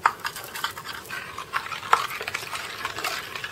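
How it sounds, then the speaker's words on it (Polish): Gingerbread batter for an old-style Polish piernik is stirred in a bowl, giving close, rhythmic wet scraping strokes at a moderate, even pace. "Mieszam to wszystko"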